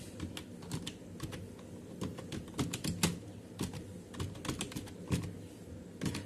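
Rapid typing on a computer keyboard while working in an Excel spreadsheet, a close series of crisp irregular key clicks in quick bursts, with no talk.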